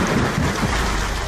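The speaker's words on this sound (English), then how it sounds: "the latest storm fronts have seen hail hammering down the northern suburbs and northern beaches" A hailstorm with thunder batters Sydney's northern suburbs, a dense, loud, continuous roar of hail and rain under low rumbling thunder, with no voices.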